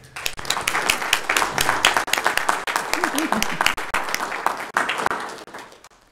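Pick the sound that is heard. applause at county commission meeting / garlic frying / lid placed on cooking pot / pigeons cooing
applause at county commission meeting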